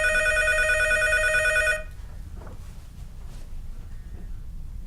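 A telephone rings with a bright, rapidly trilling electronic bell in a quiet room as a call goes to the Montreuil police station; the ring cuts off abruptly partway through, leaving faint background noise.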